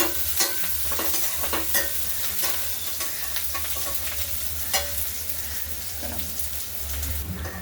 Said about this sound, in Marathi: कांदा छान लाल कलर येईपर्यंत परतून घ्यायचा.